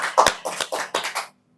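Quick burst of applause from a small studio audience on an Indonesian talk show, several bursts of hand claps over about a second and a half, close and moderately loud, then silence.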